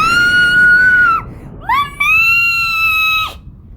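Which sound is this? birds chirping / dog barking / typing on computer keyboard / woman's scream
woman's scream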